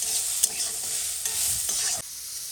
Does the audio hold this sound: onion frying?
yes